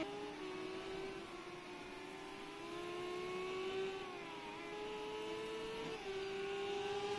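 A specially built Renault Megane race car engine, a steady high-pitched whine holding near-constant revs with one brief gear-change dip, heard at a distance and fairly faint.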